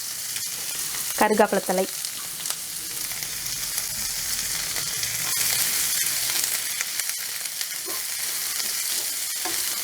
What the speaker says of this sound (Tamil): இது கொஞ்சம் ஆனியன் கொஞ்சம் வதங்கட்டும்.